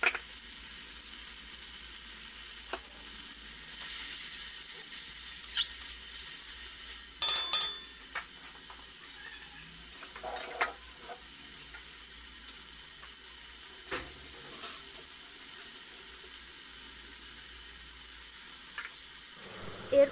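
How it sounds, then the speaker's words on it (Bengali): Onion, tomato, ginger and garlic paste sautéing in a pan makes a faint, low hiss, punctuated by occasional sharp clicks and scrapes of a spoon stirring against the pan. "এটাকে একসঙ্গে দিয়ে কষিয়ে নেব মশলাটাকে।"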